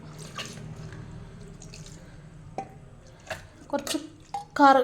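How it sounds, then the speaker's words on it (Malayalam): Tamarind water poured into a pan of manthal fish curry, heard as a few soft, close splashes and drips near the end over a quiet kitchen background. "പുളിവെള്ളം നമ്മൾ നേരത്തെ റെഡിയാക്കി വെച്ച പുളിവെള്ളമാണ് ഇതിലേക്ക് ഒഴിച്ചു കൊടുക്കണം"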